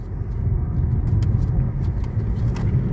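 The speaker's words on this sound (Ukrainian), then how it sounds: "Саня, може трошки поаккуратніше їхати?" A car drives along a road, a steady close low rumble of engine and tyres filling the cabin throughout, with no voices.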